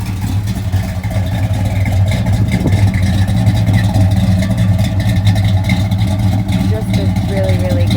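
A 1970 Dodge Super Bee rumbles loudly through its aftermarket exhaust pipes, recorded close from the rear, a deep continuous engine drone with someone speaking over it.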